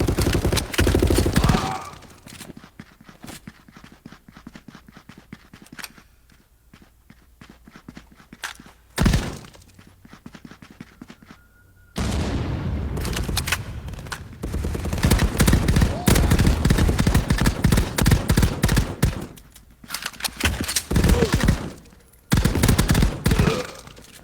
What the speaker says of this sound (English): I'm going to change it over to 3-round burst this round. This for faster killing.